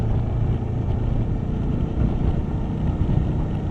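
Steady low-frequency wind buffeting roars into the helmet microphone while riding a 2020 Suzuki V-Strom 1050XT motorcycle, continuous and fairly loud with no speech.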